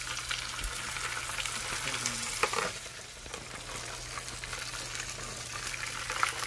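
Clams, scallops, abalone and shrimp grilling at a clam barbecue restaurant in Busan's Taejongdae, giving a steady close sizzle and crackle with occasional small pops over a constant low hum.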